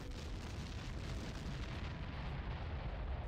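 Artillery rounds striking and exploding in the Ground Control strategy game, a dense continuous rumble of blasts and debris that stays loud and rough throughout with no clear pauses or voices.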